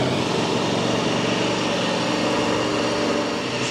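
A 2025 Ducati Panigale V4S motorcycle engine fires up and runs steadily for a few seconds, a loud, dense broadband roar with a deep, rumbling low end, close by and without talk.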